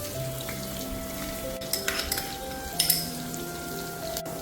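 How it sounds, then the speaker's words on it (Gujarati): Garlic frying in hot oil with asafoetida gives a steady soft sizzle, with a few light clinks of a spoon against the pan and no talking. "તેલ ગરમ થઈ ગયું છે મેં અડધી સ્પૂન મેં હિંગ એડ કરી છે હવે આપણે લસણ એડ કરી દઈશું"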